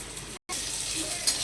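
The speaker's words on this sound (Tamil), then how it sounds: "நல்லா காஞ்ச அப்புறம் பீஃப் போட்டு உப்பு போட்டுக்கணும் தேவையான அளவு" Beef fries with salt in a pan, giving a steady close sizzle that drops out for a moment and then carries on.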